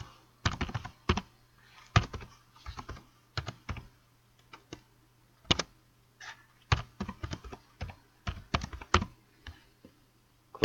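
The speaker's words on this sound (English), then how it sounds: "You're gonna type in your email." Fingers tapping out an email address on a computer keyboard, bursts of quick close key clicks separated by short pauses, with no voices.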